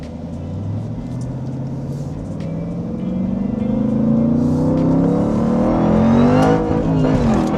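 Jeep Trackhawk with its supercharger whining, pulling hard under heavy acceleration from inside the cabin, a loud rising roar and climbing whine building steadily over several seconds with no talk.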